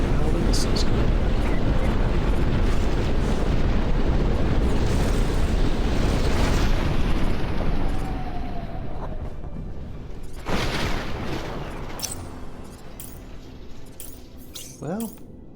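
Missile barrages exploding in the mech strategy game Phantom Brigade, a dense continuous roar of overlapping blasts that thins out partway through, leaving scattered booms and a few rising whistles near the end.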